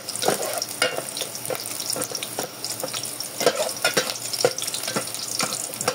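Garlic frying in a pan for sautéed moringa with sardines, a steady close crackling sizzle with scattered pops and occasional stirring scrapes, loud and continuous throughout.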